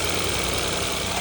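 Alfa Romeo 164 engine idling after sitting neglected, low on coolant, giving a steady, close, continuous rumble with a faint buzzy top and no talk.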